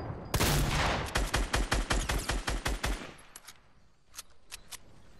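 Video game gunfire in a duos match: a rapid burst of loud automatic shots in a steady rhythm for a couple of seconds, followed by a few sparser, fainter single shots.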